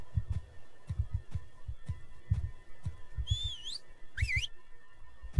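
Two rising whistle calls from the player's whistle command in Ark: Survival Evolved, heard partway through over a steady rhythmic low thumping game backdrop.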